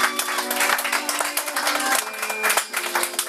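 A church congregation claps loudly and cheers to welcome a minister, giving continuous rapid applause with a crowd tone and a sustained voice or instrument underneath.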